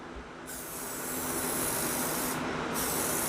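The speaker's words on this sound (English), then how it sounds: "right here we're gonna shoot the medium coat" A spray gun hisses steadily laying a medium coat of paint onto a Subaru WRX STI front lip kit, a continuous close airy rush that swells slightly and holds.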